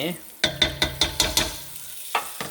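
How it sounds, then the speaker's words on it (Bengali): Cumin powder and onion are added to hot oil. A spoon stirs them in a pan with several quick, rhythmic scraping strokes over a light sizzle. The sound is close and clear, with no talk. "আমি তেলের মধ্যে এখানে পেঁয়াজ সরি জিরে জিরের গুঁড়া এবং পেঁয়াজ দিয়ে দিলাম"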